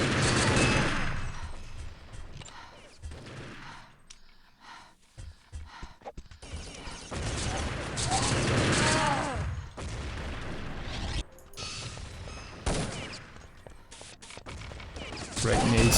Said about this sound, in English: Great nades by Slide.